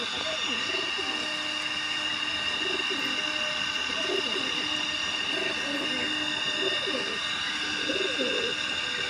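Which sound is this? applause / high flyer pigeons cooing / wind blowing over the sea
high flyer pigeons cooing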